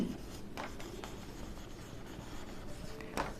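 Close, steady scratching of writing on a classroom board with a few sharper stroke accents, heard alone with no speech.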